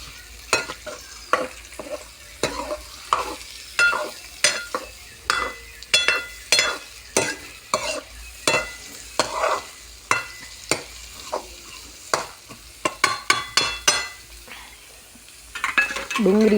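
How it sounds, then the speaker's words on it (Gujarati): Onions sauté in a pan with a soft sizzle beneath repeated sharp scraping and tapping of a spoon against the pan, irregular strokes that crowd together toward the end. "ડુંગળીને આપણે થોડીક શેકાવા દઈશું"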